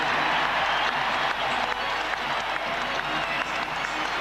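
Arena crowd roaring and cheering at a 2000 Lakers vs. Pacers NBA basketball game, a dense continuous wash of noise with scattered claps, loud and sustained.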